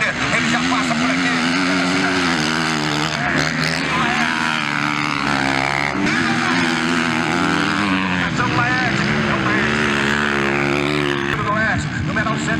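Race cars in the Dinossauros class of the Copa Conesul at Itaquiraí, Brazil, accelerating hard past the track with loud, sustained engine roar rising and falling, under a commentator talking continuously.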